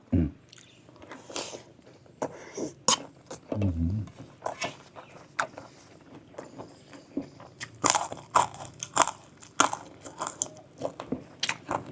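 Crispy fried food crunched in repeated bites through a home meal, sharp close crackling bursts with chewing between them, no talk.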